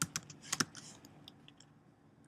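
Quick bursts of keystrokes on a computer keyboard, close and fairly quiet, clustered at the start and tapering into a few scattered taps and a final key press, with no talk.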